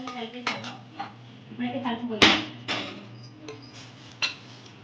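A ladle scrapes and clinks through mango pulihora in a metal pan, with irregular stirring strokes and one sharper clatter midway, close and fairly clear.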